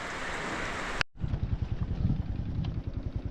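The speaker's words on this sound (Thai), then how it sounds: "ฝนตกคักบานเลย" A dense, loud hiss of heavy overnight rain over rice paddies fills the first second, then cuts to a closer, rougher patter with thumping noise, steady throughout.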